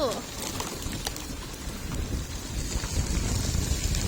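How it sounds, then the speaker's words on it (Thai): Steady rain hisses and patters on a surface, a broad wash of noise that persists throughout with no clear voices on top. "ปีใหม่ฝนตกทุกคน"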